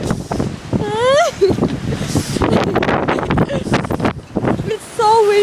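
Strong outdoor wind roaring and buffeting the microphone in loud, continuous gusts, with a person talking and brief high-pitched voiced whines over the noise.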